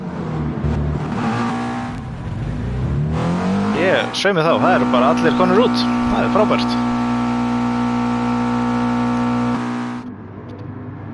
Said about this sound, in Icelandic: Bölvu læti í þessum McLaren, ég heyri bara valla í sjálfum mér